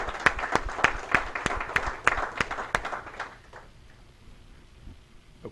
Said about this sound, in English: thank all of the award recipients with a round of applause